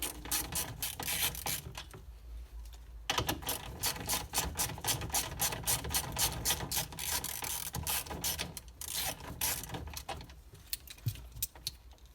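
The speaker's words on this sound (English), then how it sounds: "10mm socket." A ratchet with a 10mm socket turns a bolt on a Toyota MR2 SW20 during fuel pump and fuel level sensor work, making rapid, close clicking bursts broken by short pauses.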